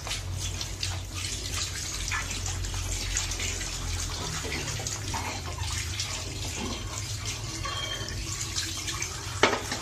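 Tap water runs steadily as freshly cut glass pieces are rinsed clean of oil, with splashing and occasional clinks close by.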